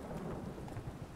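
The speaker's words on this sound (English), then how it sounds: "I like rain." Steady in-game rain in The Witcher 3: The Wild Hunt, a dense continuous hiss of falling drops with a low rumbling wash underneath, even and unbroken throughout.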